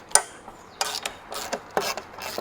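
A socket ratchet works on valve cover bolts of a Big Cam Cummins diesel engine. Sharp metallic clicks and short rasping bursts are close and irregular, with no voices.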